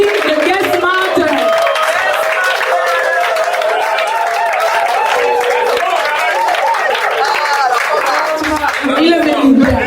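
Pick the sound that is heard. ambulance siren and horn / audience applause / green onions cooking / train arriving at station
audience applause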